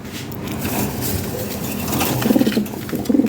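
Lahore pigeons kept for sale give low, soft cooing calls that swell into a few clearer coos near the end, set against a noisy background with some faint voices.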